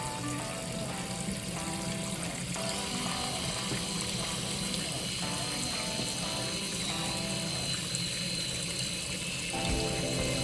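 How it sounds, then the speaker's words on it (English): Baby bottles being washed at a sink with a bottle brush, water running steadily under repeated scrubbing and rubbing strokes against plastic, close and continuous throughout. "I'm just washing the outside part of the mouth of the bottle"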